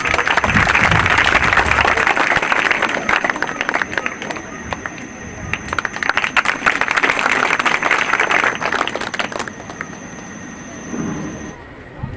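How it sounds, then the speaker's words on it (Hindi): A crowd applauds loudly and steadily at a student award ceremony held at a study centre in Haripur, Khagaria. The clapping lasts about ten seconds before thinning out near the end. "इनके लिए एक बार जोरदार ताली हो जाए।"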